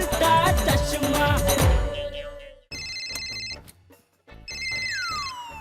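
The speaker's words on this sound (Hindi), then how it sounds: "फोन की घंटी बज रही है।" Following a burst of music, a mobile phone rings with a bright electronic ringtone that repeats in two clear bursts with a short gap between them, the second ending on a falling tone.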